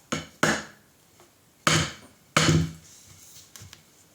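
A brass fret tool with a notched tip is hammered against a fret on a headless Solar seven-string guitar. Four or five close, crisp knocks come at irregular intervals with quiet gaps between, and no voices.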